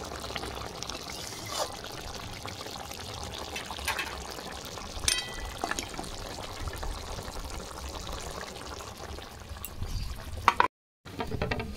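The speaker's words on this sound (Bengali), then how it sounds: "ঢেলে নিচ্ছি।" Liquid poured into a pan while cooking the Bengali vegetarian taro dish kochu maharani: a steady, close pouring trickle that runs on for several seconds with faint sizzling beneath.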